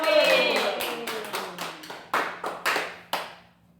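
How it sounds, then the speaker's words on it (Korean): A small church congregation at an Easter Sunday service claps in a short burst of distinct, separate hand claps that gradually space out and fade. "하나님 박수, 영광."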